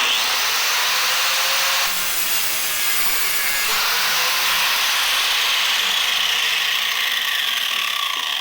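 A John Deere mower blade is drawn across an All American Sharpener, giving a rough, grating rasp. The scraping comes in long, close strokes with short breaks between them.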